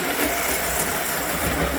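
A vintage Lionel Standard Gauge 384 model locomotive pulling passenger cars from a 390E set makes a steady, close, continuous running hum and rumble with no pauses and no voices.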